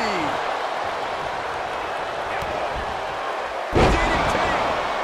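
A WWE 2K22 DDT by AJ Styles on Andre The Giant lands as one sharp, loud slam late in the moment, over a constant arena crowd murmur and commentary voices.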